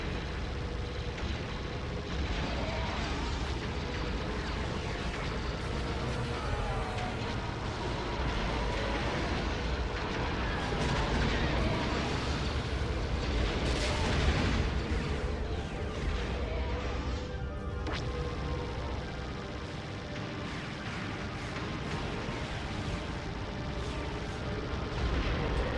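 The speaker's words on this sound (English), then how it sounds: "There's the bombers. They're bombing my stuff." Bombers pound targets in a GameCube Star Wars-style space combat game, a dense, continuous roar of explosions, cannon fire and engine rumble that stays loud and layered for the whole stretch, with no voices over it.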